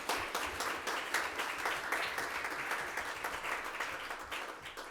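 A research excellence awards audience gives sustained applause for those who did not get a prize, a fairly soft, steady wash of many hands clapping in a hall.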